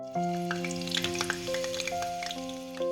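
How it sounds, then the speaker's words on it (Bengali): Potatoes and eggs fry in oil that was used to fry onions, a close sizzle with crackles and spits, while steady musical tones sound throughout and no one speaks. "যে তেলে আমি বেরেস্তা ভেজেছিলাম সেই তেলে আমি আলু আর ডিমগুলো একটু ভেজে নেব"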